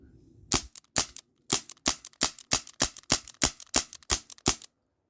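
A rapid string of about a dozen sharp BB gun shots from a Glock 19 Gen 3 style CO2 pistol is fired at a distant target. The cracks come at a steady, quick rhythm, close and loud, with quiet pauses between them.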